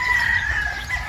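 Golden boy straight comb chickens on a farm give a short, close crow-like call with clucking, loud and alone for about a second.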